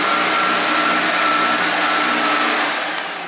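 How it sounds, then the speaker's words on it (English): A Sebo Dart upright vacuum cleaner runs close by on carpet while picking up pet hair, a loud steady whining roar that eases slightly near the end. "as I approach the pet hair, it is literally pulling the pet hair into the vacuum"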